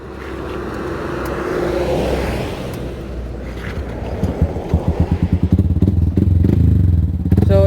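A Raider or Sniper 150 motorcycle with an open exhaust pipe runs nearby, rumbling unevenly at first and then breaking into loud, rapid popping blasts that grow more intense toward the end.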